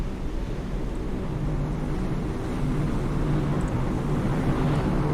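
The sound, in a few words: helicopter overhead in the submarine video game Cold Waters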